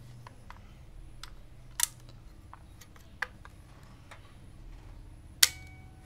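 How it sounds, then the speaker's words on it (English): Argus film camera with a 50mm f3.5 lens firing its shutter at slow speed: faint mechanical ticking throughout, with three sharp close clicks standing out, spaced well apart, in a quiet room. "Now I'll show you the shutter speed."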